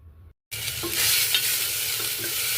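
Ginger garlic paste with whole spices and bay leaf sautéing for chicken curry, a sharp loud sizzle bursting in after a brief silence and holding steady with faint stirring scrapes.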